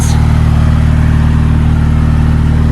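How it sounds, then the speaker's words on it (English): An Onan generator runs on a GMC motorhome after its starter motor was replaced. The engine hum is loud, close and steady, with an even, unbroken drone and no voices. "So very happy with this noise. Generator is running."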